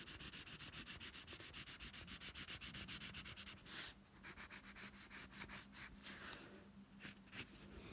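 Pencil shading on paper, a faint, close, rhythmic scratching of quick even strokes that runs steadily, then slows into broader, irregular rubs.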